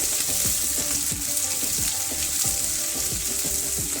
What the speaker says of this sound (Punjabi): ਪਿਆਜ਼ ਨੂੰ ਵੀ ਆਪਾਂ 3-4 ਮਿੰਟ ਵਾਸਤੇ ਭੁੰਨ ਲਵਾਂਗੇ